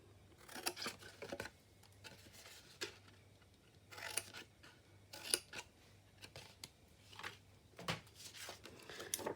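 Scissors snip wedges out of a sheet of pattern paper for a box wrap set, a series of crisp, close cutting clicks and rustles in irregular bursts with no talking.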